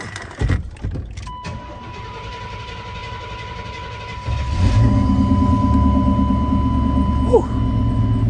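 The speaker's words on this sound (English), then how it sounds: "That good old Chevy, man. Y'all know they crank over, no problem, no smoke, man." A Chevy K5 truck's engine cranks, catches and settles into a steady, fairly loud idle rumble, with some clatter at the start.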